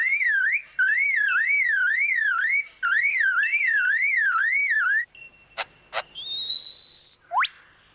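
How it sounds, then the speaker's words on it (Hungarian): A car alarm wails in rising and falling electronic sweeps, pausing briefly between bursts, then switches to sharp chirps and a rising tone; loud and alone. "Ez egy autó riasztó berendezése."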